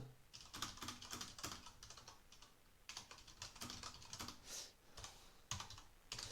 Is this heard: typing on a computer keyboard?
yes